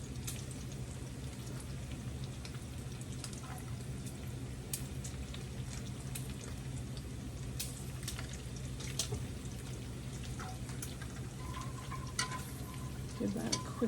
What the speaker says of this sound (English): we've got some butter back here melting on the stove. We're gonna go ahead and put our celery in.